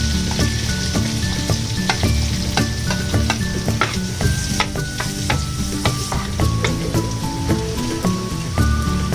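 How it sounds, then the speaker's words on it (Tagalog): Garlic frying in a pan for creamy garlic mussels, a steady dense sizzle with repeated sharp clicks of a utensil stirring against the pan, close and continuous with no talking. "Ilalagay na po natin ang ating bawang. Antayin po natin siya maging golden brown."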